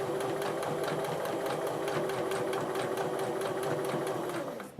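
Sewing machine stitching fabric toward the edge in a steady, fast, continuous run of loud, close stitches, stopping abruptly at the very end.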